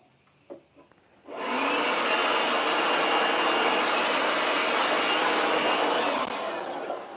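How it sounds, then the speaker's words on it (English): A loud power sander runs on a carved wooden stencil sign, starting abruptly after a few quiet taps and holding a steady, close whirring roar for several seconds before easing slightly at the end. "I wanted to try and sand more off of there because I want to do green on the grass"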